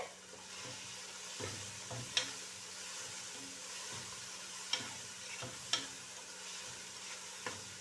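Chicken pasta in a creamy white sauce being stirred in a pan over a soft, quiet sizzle, with slow scraping strokes and a few sharp utensil taps against the pan.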